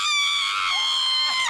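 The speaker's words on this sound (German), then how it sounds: "Wenn ich daran ziehe, schreist du bestialisch." A person screams loudly in one high, sustained, piercing cry that lasts over a second, close and with no talk.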